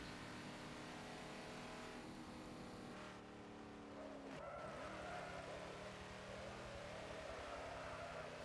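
In Forza Motorsport 7, a car drifts through a corner with a steady engine drone and a sliding tire squeal that bends in pitch midway, all fairly faint.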